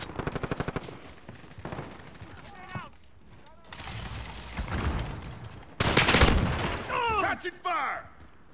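Rapid automatic gunfire bursts from Call of Duty: Modern Warfare (2019) gameplay, loud and close, with a sustained fusillade and mechanical clatter between shots.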